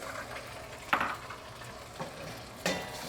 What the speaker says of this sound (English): So first I'm going to brown the shrimp.